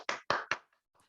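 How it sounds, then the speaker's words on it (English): Three sharp, loud claps from a small audience honoring the speakers and panelists at a talk on receivership in Latinx communities, followed by a couple of faint scattered taps before the room quiets. "One last round of applause"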